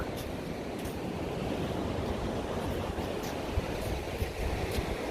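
Sea waves wash steadily onto the beach at Devgad, a continuous broadband rush of surf with wind noise and a few louder surges, heard alone without speech.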